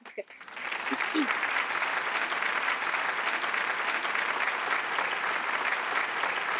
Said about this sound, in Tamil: வா, ஒரு நல்ல கைத்தட்டல் கொடுக்கணும்